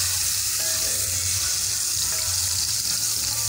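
Onion and garlic frying in a very hot pot while being stirred, a steady dense sizzle with a constant hiss and a low hum underneath, no talking.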